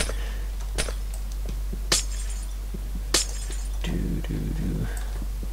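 Blocks being smashed in Minecraft, three sharp glassy breaking crashes spaced about a second apart, followed by a muffled thudding burst over a constant low hum.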